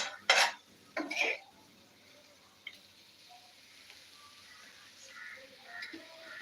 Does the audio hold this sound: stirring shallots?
yes